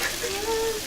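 Faint, steady sizzling of traditional Ethiopian food frying in oil, with a soft crackle running throughout and a few brief tonal whines over it.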